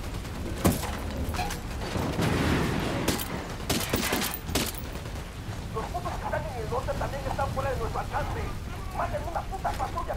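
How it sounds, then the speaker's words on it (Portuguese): Gunfire rings out during a Ghost Recon mission convoy ambush, with several sharp bursts of shots early on, then voices talking over quieter game sounds. "Tô abrindo fogo."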